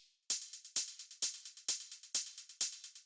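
Techno hi-hat sample pattern in acid style: six crisp accented hits arrive evenly, each followed by a few quieter rapid ticks, forming a tight, bright, driving loop.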